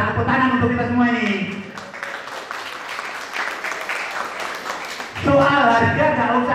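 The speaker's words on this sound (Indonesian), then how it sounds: "Tepuk tangan untuk kita semua ini." Audience applause during a work-culture lecture in Surabaya, a dense burst of many people clapping in the middle, framed by someone talking before and after it.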